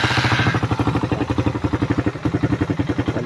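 A Suzuki Raider 150 motorcycle engine runs noisily after losing its oil, with a rapid, even, pulsing clatter held up close for the whole stretch.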